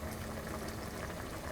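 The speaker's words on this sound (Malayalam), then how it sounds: "ഇതിപ്പോൾ നന്നായിട്ട് തിളച്ച് ഗ്രേവി ഒന്ന് കുറുകിയിട്ടുണ്ട്." A thickening coconut milk okra gravy bubbles steadily in a pan, making a soft continuous simmer close by without pauses.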